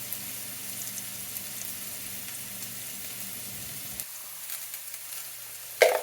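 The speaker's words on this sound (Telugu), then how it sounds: "మనం ఆనియన్స్ని కొంచెం గోల్డ్ కలర్లో ఫ్రై చేసుకుంటాము" Continuous close sizzle of onions frying in oil, dropping suddenly quieter partway through, then a single clatter near the end.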